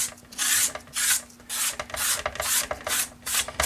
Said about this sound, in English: Looks like I could stand to run a sanding sponge over some of this.